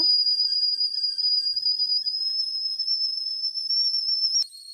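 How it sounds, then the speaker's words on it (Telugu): A milk cooker on a stove lets out a loud, steady high-pitched whistle that holds for about four seconds, then breaks off with a brief change in pitch. "విన్నారు కదా విజిల్ ఎంత గట్టిగా వేసిందో"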